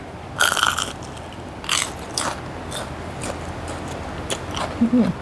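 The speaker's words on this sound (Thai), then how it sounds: "เรามานั่ง ห่อปอเปียแล้วก็กินปอเปียตอนเที่ยงคืน" Fried spring rolls are bitten and chewed late at night, with crisp crunchy bites recurring irregularly up close over soft background noise.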